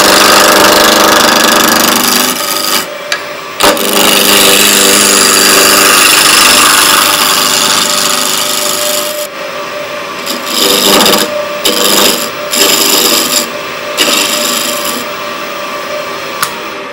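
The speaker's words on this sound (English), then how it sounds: "turn the lathe on, and we'll bring it up. And we're going to just clean this up and make a cylinder" Wood lathe turning a cylinder while restoring a Tibetan prayer wheel, a loud continuous whirring drone with a rough grinding edge, close by, dipping briefly in level at a few moments.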